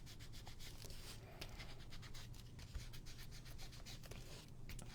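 Sandpaper rubbed by hand across a printed photo to age it for an antique look, a steady close scratchy rasp with quick strokes throughout, no talking.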